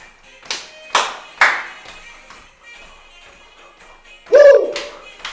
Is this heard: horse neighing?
no